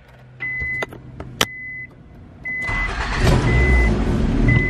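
A car's starter chimes and clicks, then the engine cranks and catches, settling into a loud, steady idle.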